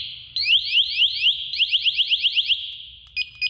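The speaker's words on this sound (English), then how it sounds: "2 clicks of the yellow button silences the alarm. 2 more clicks deactivates the alarm." A firefighter's SCBA manual alert alarm sounds alone and close, with shrill rising chirps that quicken into a rapid pulsing series and then break into a few short beeps.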